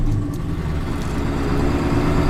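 A vehicle engine idles steadily and fairly loud as it warms up, with a constant low rumble and no talking.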